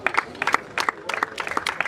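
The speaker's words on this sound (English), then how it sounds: "Thank you for clapping." A small audience claps at a sporting club invitation event, giving scattered, uneven hand claps that are close and moderately loud over just under two seconds.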